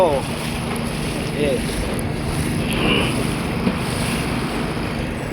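Water sloshes and slaps against a moving boat under steady wind noise and a low engine drone, with no talking.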